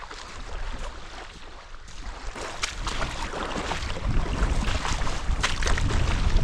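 Strong wind in far northern Sweden buffets the microphone with a continuous rushing roar that grows louder toward the end, along with the wash of water nearby.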